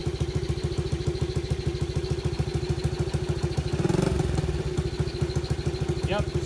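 A $50 pocket bike engine idles with a steady, rapid putter, then a short louder burst of hiss comes from a nitrous oxide purge with the throttle closed, before the idle settles again.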